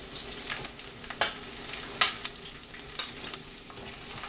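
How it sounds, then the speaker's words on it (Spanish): Onion and garlic frying in hot oil give off a steady, soft sizzle, with scattered louder crackles and pops breaking through. Nobody speaks. "Lo que voy a hacer, voy a empezar a poner a dorar la cebolla"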